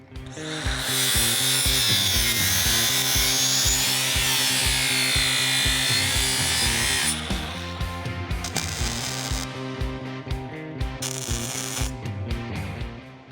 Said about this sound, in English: I'm going to put a chamfer on all the edges where there's going to be a butt weld